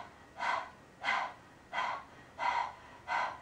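Kapalabhati yoga breathing done as quick dog-like panting: five sharp, forceful exhalations at an even pace of about one every 0.7 seconds, close and clear with no talking.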